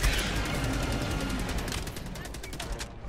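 Rapid machine gun fire in Helldivers 2 during a fight with a giant bug, a dense continuous stream of loud, close shots that runs without a break, with voices talking over it.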